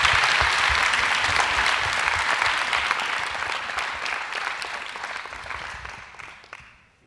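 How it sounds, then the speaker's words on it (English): A strong round of audience applause fills an evening event, loud and dense at first, then gradually tapering off until it fades to quiet. "How about a round of applause for Gabe and Ysabet?"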